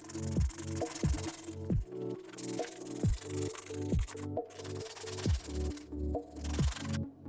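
White sneakers are scrubbed clean with a brush in rhythmic back-and-forth strokes, close and distinct, each rasping rub repeating about once a second.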